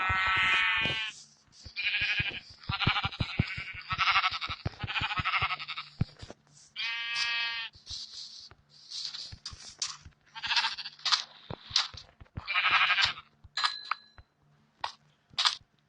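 Sheep bleat again and again in quick, nasal bursts, some loud and close and others thinner, mixed with scattered clicks and taps. The calls come in an uneven, busy run with short gaps between them.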